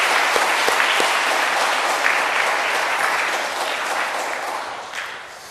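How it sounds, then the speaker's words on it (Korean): A Korean church congregation gives loud, sustained applause in thanks to the fathers during a sermon, a dense wash of clapping that holds steady and then fades toward the end. "정말 한번 박수"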